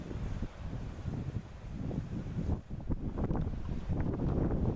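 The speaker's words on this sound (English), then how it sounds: "see if I can get out of this wind a little bit" Outdoor wind buffeting a microphone during a Marlin 336 lever-action rifle shooting session, a constant low rumbling roar with gusty surges and brief dips, loud and close throughout.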